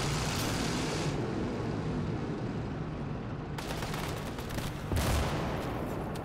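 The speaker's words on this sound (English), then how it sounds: "M60 shot at the turret." Battle noise from the Gates of Hell game: dense rumbling gunfire and explosions, including a heavy boom from an M60 tank firing at a turret, loud and continuous.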